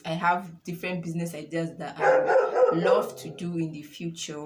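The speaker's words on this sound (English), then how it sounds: "don't mind my dog. She does not want to shut up" A dog barks repeatedly close by while a person keeps talking over it.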